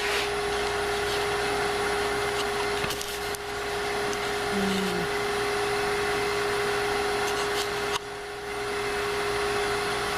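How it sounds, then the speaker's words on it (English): A round nose scraper cuts lightly inside a wooden bowl spinning on a lathe, giving a steady, loud whirring hum with a faint scraping texture and brief dips in level, and no voices. "now I'm going to take my round nose scraper with a very light touch"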